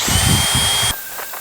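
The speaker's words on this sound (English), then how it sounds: "I'm just going to scuff it up with a drill bit" A power drill with a bit scuffs the inside of a seized bicycle seat tube, a loud high whine and grinding for about a second before it cuts out and winds down.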